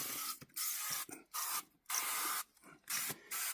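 Rapid hissing sprays from a trigger bottle of cleaner onto a car interior, about six short bursts in an uneven rhythm, close by with brief pauses between.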